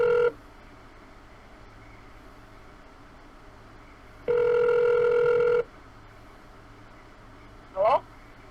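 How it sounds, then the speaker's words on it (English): A prison payphone line plays ringback tones after a number is dialed: a steady tone burst at the start, a longer ringing tone around the middle, and a brief rising chirp near the end, all fairly clear against faint line hiss. "The number is now being dialed."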